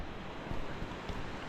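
A creek flows outdoors on an autumn trek to Mount Fitzwilliam, giving a steady, fairly loud broadband rush of water with gusts of wind noise on the microphone.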